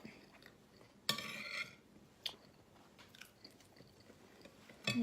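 Someone chews and eats pizza close to the microphone, producing soft wet chewing and a couple of sharper bite or crunch sounds over a low background hiss.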